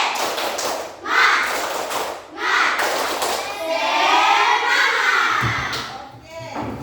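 Schoolchildren in a classroom shout together and beat out a rhythmic spirit clap, with loud bursts of taps, thuds and cheering voices that rise and fall in a few waves.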